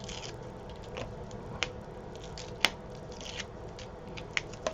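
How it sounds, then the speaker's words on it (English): A pokey tool peels release paper off very sticky double-sided tape during a heat-embossing craft. It makes soft scratchy rustling with a few sharp little clicks and ticks scattered through, close up and quiet, with no talking. "now I'm just using my pokey tool to remove the release paper"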